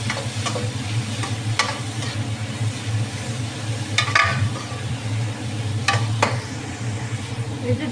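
Shrimp dropped into a pan with tomatoes for a bottle gourd curry, a steady loud sizzle and fry throughout with occasional clinks and scrapes of a stirring spoon.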